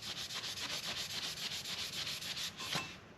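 Close, brisk strokes of sandpaper rub across a dune buggy body being prepped for paint, a fast regular back-and-forth rasp that continues steadily with a brief knock near the end, no voices.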